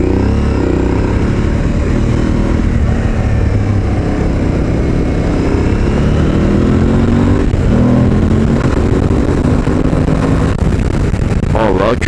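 An Aprilia Tuareg 660 motorcycle on a test ride gives a dense, constant engine roar mixed with wind rush, loud and close throughout, with a rider's voice speaking faintly beneath it.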